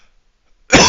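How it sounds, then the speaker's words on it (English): A man coughs once, loud and close, a sudden harsh burst after near silence. "Sorry for some coughing"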